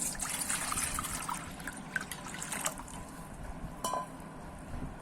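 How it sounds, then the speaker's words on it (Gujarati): Water poured into a bowl while preparing Gujarati boreli garmar pickle, a steady close trickle and splash with a faint clink near the end. "તેમાં આપણે 1 લીટર પાણી નાખીશું."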